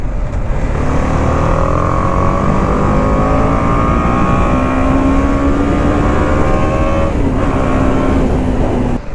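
A small-displacement A2-class motorcycle accelerating hard, its engine note climbing steadily through the gears with rising whine, loud and close throughout with no talking.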